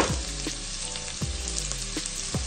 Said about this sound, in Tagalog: Parang igigisa natin yung talong.